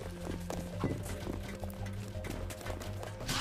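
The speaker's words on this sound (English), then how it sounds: "No one expects the horse." Hooves clip-clopping in a medieval combat video game, a quick run of steady hoof beats over a low rumbling backdrop, fairly faint.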